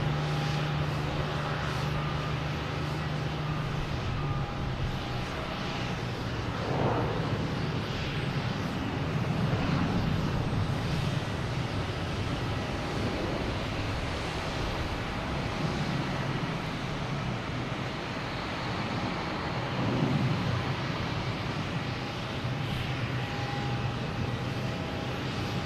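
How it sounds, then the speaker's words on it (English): A JetBlue Airbus A321 airliner, flight 319 bound for San Diego, flies near Boston Logan Airport, its engines giving a steady, moderately distant broadband roar that holds throughout with slight swells. "we have JetBlue heading to San Diego. An A321, flight 319."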